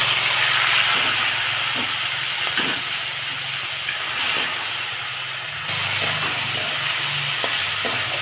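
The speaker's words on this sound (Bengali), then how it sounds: "আগে আমি চিংড়ি মাছগুলো ভেজে নেব।" Prawns frying in hot oil in a wok, a loud, steady hissing sizzle that jumps in intensity partway through with occasional faint clinks, no talking.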